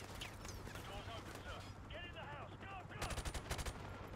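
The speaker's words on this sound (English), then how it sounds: "I'm getting shot like mad." Gunfire in the Modern Warfare Remastered campaign: bursts of shots rattle throughout, turning into a dense, loud rapid-fire volley near the end, with game speech and chatter mixed in beneath.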